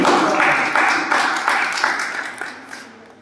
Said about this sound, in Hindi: इसके लिए एक बार और जोरदार ताली होनी चाहिए